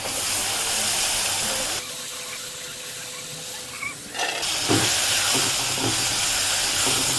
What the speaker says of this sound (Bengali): এখন দিয়ে দিব সাজনা আর ডাল একসাথে।